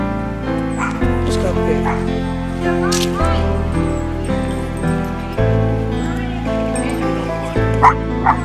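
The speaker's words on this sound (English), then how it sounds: "That was a dog." A neighborhood dog barks and yips repeatedly at close range on a walk outdoors, sharp barks breaking through while a person talks.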